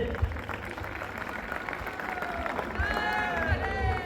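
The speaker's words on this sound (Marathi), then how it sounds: "त्यामुळे एका जोरदार टाळ्या त्यांच्यासाठी झाल्या पाहिजे." A college fresher's party audience claps for the agriculture students who organised it, a steady, moderate applause from many hands with crowd murmur and some voices talking over it.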